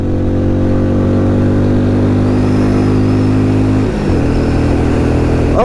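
A Benelli Imperiale 400 motorcycle accelerates uphill, its engine droning loudly and continuously up close under wind, with a brief dip in pitch as it shifts.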